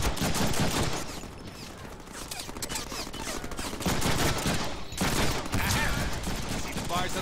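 Rapid automatic gunfire from the Deadpool video game rattles almost continuously, with a short lull near the middle before the loud bursts resume, while someone speaks over the shooting.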